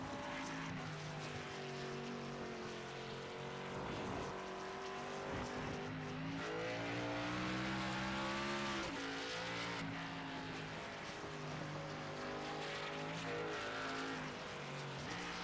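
Race car engines roar steadily in a sim racing league game, several cars droning and shifting pitch together as they run close, loud and continuous with no talk over them.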